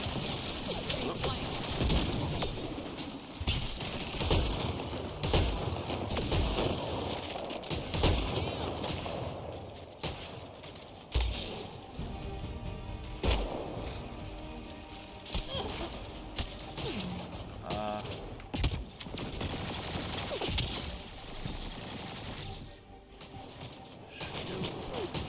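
Sci-fi gunfire from a Mass Effect Andromeda firefight, a dense ongoing clatter of shots and impacts through the whole stretch with game effects mixed in and a voice talking at times.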